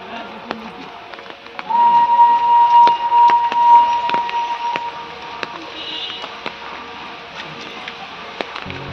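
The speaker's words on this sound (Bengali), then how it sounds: "ওদিকে টয় ট্রেন আওয়াজ দিচ্ছে।" A Darjeeling toy train whistle sounds for about two seconds, a steady tone over background chatter and bustle, fairly near.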